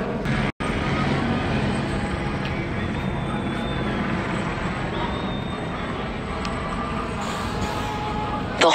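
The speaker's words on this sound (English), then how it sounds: "Chopper up in the air." A police helicopter hovers overhead above a street protest, its steady rotor and engine drone continuous and fairly loud for the whole stretch, with a brief dropout near the start.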